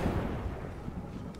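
Frag grenade explosion in the video game Apex Legends: a brief, muffled low rumbling boom, fairly faint and sustained for a moment without a sharp attack.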